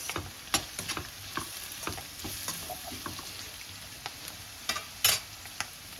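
Tomato and onion fry with coconut pieces in a pan for a Tirumala-style kobbari pachadi, giving a steady close sizzle broken by sharp stirring clicks and scrapes, with no voices.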